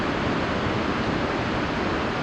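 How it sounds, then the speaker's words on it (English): Burney Falls, a spring-fed waterfall in Northern California, roars as a steady, dense wash of rushing water, loud and unbroken with no voices. "you could already hear the waterfall from the parking lot"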